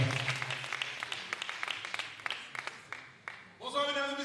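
Audience applause for a gospel group at a live concert, a steady patter of clapping from a crowd that fades out before a voice begins speaking at the end.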